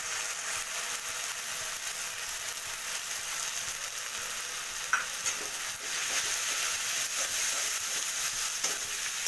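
Poppy seed paste mixed with Kashmiri red chilli powder and turmeric is poured over fried onions in a pan for bori posto, then stirred steadily under a soft continuous sizzle, with a few light scrapes.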